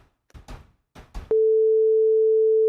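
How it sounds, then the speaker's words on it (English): Two synthesized sine waves sound together as one steady, pure tone, locked in phase so they simply sound louder, entering abruptly after a brief spoken line and holding constant to the end. "add a second sine wave on top of it"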